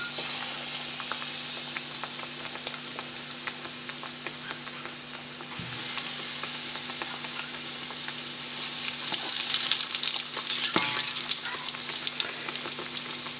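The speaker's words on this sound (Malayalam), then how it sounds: "തിളച്ച എണ്ണയിലേക്ക് നമുക്ക് ഈ ഓരോ ചിക്കൻ പീസ് ഇട്ട് കൊടുക്കാം" Pieces of chicken in a KFC-style coating powder frying in hot oil, a steady close sizzle and crackle throughout, growing louder and busier toward the end, with no talking.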